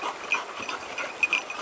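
A hunting dog on a wild boar drive hunt in Tox, Corsica, gives short, thin, high whines in quick irregular bursts, close and fairly loud with no speech.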